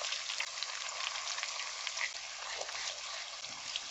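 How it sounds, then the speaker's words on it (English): Vegetables and tomato paste sautéing together in a pan make a steady, dense sizzle and crackle that holds evenly throughout, close and fairly loud with no voice over it. "so just sauteing all of this together"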